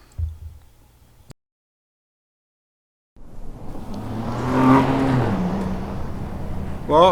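A 2022 Ford Bronco Raptor engine revving up after a brief silence, a loud rising growl that swells and holds steady, with a short sharper burst at the end.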